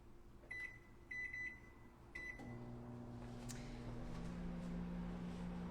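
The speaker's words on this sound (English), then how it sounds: "I'm going to actually get the microwave going." A microwave oven gives three short keypad beeps, then starts up into a steady low hum that grows slightly louder and keeps running to the end.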